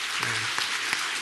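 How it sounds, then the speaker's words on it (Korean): A church congregation claps in encouragement during a service, a brief, even burst of applause with a few sharper claps inside it. "박수 한번 격려해 주시기 바랍니다"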